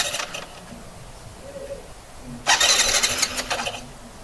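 A Suzuki Smash 115 motorcycle being started with its electric start button after sitting unused: starter whirrs, then a loud, close engine churn that sputters briefly and fails to keep running.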